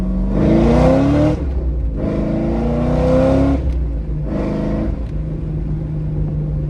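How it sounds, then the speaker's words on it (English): A Corvette C5 Z06 on a dyno revs in first gear up to about 5,500 RPM in three loud rising pulls, with a deep rumbling idle between them. "Might be able to hear a little sound clip of the car."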